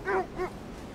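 Two short, close barks from a dog in the snowy adventure game Kona II: Brume, quick yips in quick succession followed by quiet.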